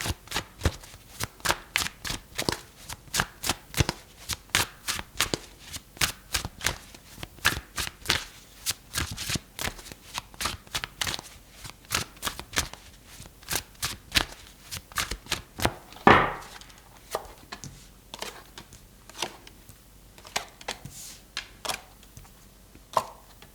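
Tarot cards shuffle and riffle in a long run of quick, crisp flicks and snaps, close and fairly quiet, with one sharper rustle as cards are drawn partway through.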